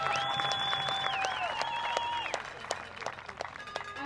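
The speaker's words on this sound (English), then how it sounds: "Let us give them a round of applause." Applause from the audience at a 2022 high school graduation ceremony, moderate clapping heard in a hall while a sustained melodic tone carries over the start and fades, the clapping thinning out toward the end.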